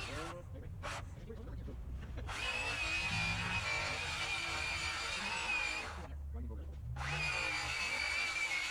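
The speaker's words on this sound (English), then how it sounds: "So now we are just trimming down that last 6-inch picket that will go on the edge of the smaller gate" A power tool trims a 6-inch wooden fence picket for a gate edge, running in two long whining bursts separated by brief pauses, close by, with low voices talking underneath.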